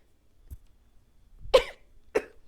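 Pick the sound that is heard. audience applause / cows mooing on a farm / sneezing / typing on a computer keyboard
sneezing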